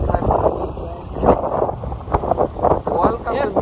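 Strong wind gusts buffet the microphone along the Corniche waterfront in Doha, Qatar, as a steady low roar with rising and falling bursts runs under a person talking.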